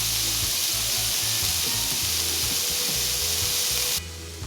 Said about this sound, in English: I like to fry that pepper a little bit